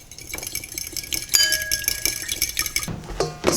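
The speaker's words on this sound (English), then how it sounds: "And now I'm just gonna whisk together" A whisk clinks against a bowl while ingredients are mixed for a glaze for homemade hamburger buns, giving a steady run of close, bright metallic taps with a few louder clatters.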